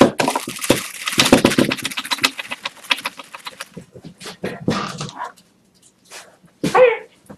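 A puppy barks and whimpers in a run of sharp yips and whines, dense at first and then thinning into sparse cries, ending with one louder whimper near the close.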